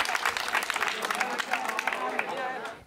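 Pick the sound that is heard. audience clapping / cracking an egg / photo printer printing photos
audience clapping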